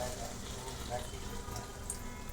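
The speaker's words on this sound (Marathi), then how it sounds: "आता आपण ह्याच्यामध्ये गरम पाणी ॲड करणार आहोत" Hot water is poured into a pot of Agri Koli-style dried fish curry, giving a steady, low rushing and splashing that runs without a break throughout.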